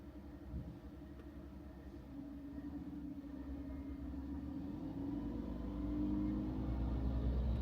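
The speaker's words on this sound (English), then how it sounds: "I got the garbage truck behind me going crazy" A garbage truck engine rumbles low and steady nearby, growing a little louder and more revving toward the end, with no voices.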